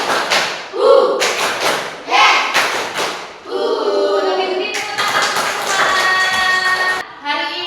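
Schoolchildren in a classroom clap in rhythmic unison, several sharp claps grouped in short bursts between loud group chanting, all close and energetic.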